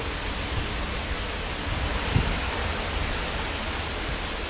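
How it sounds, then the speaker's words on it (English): Strong Hurricane Irma wind gusts roar in Tampa Bay as a dense, steady rush of noise, buffeting the microphone with a brief low thump partway through. "there's some strong wind gusts that just pick up and just rip through"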